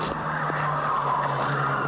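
A Volkswagen Polo G40 race car on slick tyres skids off the track in slippery conditions during a 1993 Polo G40 Cup race at Thruxton. A continuous roar of engine and tyre noise runs steadily throughout, close and loud.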